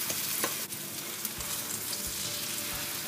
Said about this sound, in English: Then we're going to stir it all our mixtures in the pan.